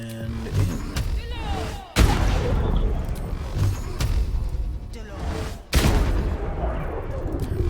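Lance blasts firing in Baldur's Gate 3, heavy booming impacts with whooshing tails, a few distinct loud strikes at roughly two-second intervals, each followed by rumbling, debris-filled decay under game combat noise.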